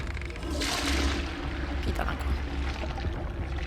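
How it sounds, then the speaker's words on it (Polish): Toilet flushing in the video game Hogwarts Legacy: a steady rushing, gurgling swirl of water lasting several seconds, with a brief voice near the end. "Woda spuszczona."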